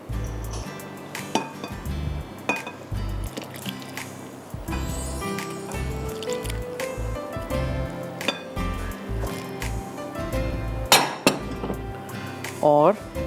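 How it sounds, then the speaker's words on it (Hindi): Buttermilk, milk soured with lemon juice, being mixed into flour dough in a bowl for chicken cutlets, giving close, wet squishing and stirring with clinks of utensil against the bowl, fairly steady through most of the stretch. "और अब हल्का सा आप इसको मिक्स कीजिएगा"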